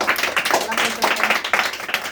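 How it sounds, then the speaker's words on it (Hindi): Scattered applause from students at a coaching-centre quiz, a handful of uneven claps with a voice speaking over them. "इसके लिए ताली लगाया जाए"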